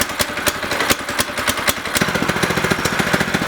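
A Predator 212cc go-kart engine with its stock muffler idles up close, a loud, steady, rapid putter of even exhaust pulses.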